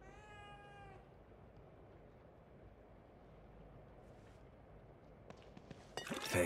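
A cat meows once in the video game The Evil Within 2, a clear drawn-out call at the start, followed by quiet ambient game rumble and a brief burst of other noise near the end.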